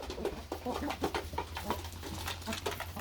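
Young and mature backyard hens cluck and murmur in a steady flock chatter, with soft repeated calls close by over a low constant hum, and a voice in the background.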